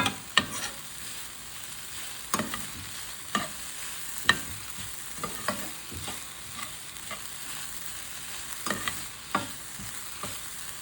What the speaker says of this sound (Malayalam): ഞാൻ കുറച്ച് ഉപ്പിട്ട് കൊടുക്കാം, അതിൻ്റെ പെട്ടെന്ന് വഴറ്റി കിട്ടാൻ വേണ്ടിയിട്ട്.